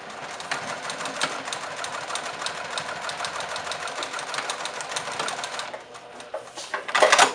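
A sewing machine runs steadily up close while stitching near the raw edge of fabric for a child's mask casing, its rapid needle chatter continuous, then briefly easing before picking up again at the end.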